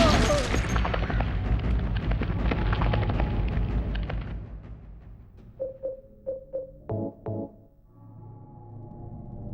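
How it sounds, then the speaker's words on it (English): Gunfire in Silent Hill 2 with a handgun: a loud booming burst at first, fading into a short run of about five sharp, evenly spaced shots, followed by a couple of heavier hits and a low rumble. "let's take out the gun and let the gun finish the job"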